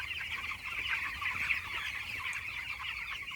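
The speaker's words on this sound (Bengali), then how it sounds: "আজকে 12 দিনের চিক্স" Twelve-day-old broiler chicks in a village poultry shed keep up a dense, continuous chorus of high peeping and chirping, close and steady with no voices.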